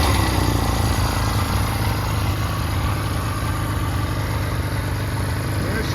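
A blue 1965 Honda CB160 motorcycle idles just after a cold start with the choke on, a steady, fairly loud and close engine putter that holds an even rhythm throughout.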